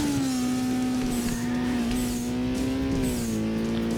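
In the racing game Burnout 2: Point of Impact, a custom SUV drifts with a loud, sustained tire squeal over steady engine roar, continuous and close with no talking.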